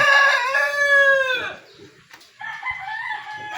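A rooster crows loudly and close by, then after a short pause chickens cluck and call nearby.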